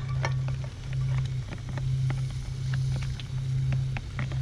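Chopped onion hitting a hot pan for a seabass risotto cooked outdoors on rocks, giving a steady close sizzle with a low continuous hum underneath and a few small clicks, no talking.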